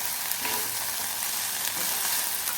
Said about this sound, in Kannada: ಇದಕ್ಕೀಗ ನಾವು ಫ್ರೈ ಮಾಡಿಕೊಂಡಂತಹ ನೂಡಲನ್ನು ಮಿಕ್ಸ್ ಮಾಡೋದು